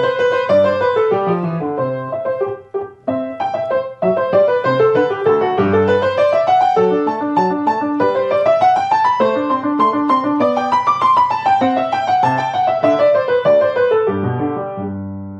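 A solo melodic line rises and falls, swelling louder as it climbs and softening as it descends, played continuously without voices.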